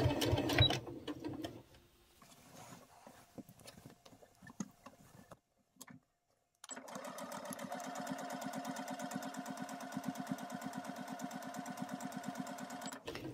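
A sewing machine stitches fabric scraps for patchwork pockets: scattered soft handling noises and a pause give way to a steady, fast mechanical run of stitching, quiet and close.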